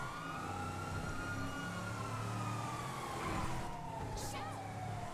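Police sirens in the video game GTA V wail with slowly sweeping tones over a constant rumble of engines and traffic.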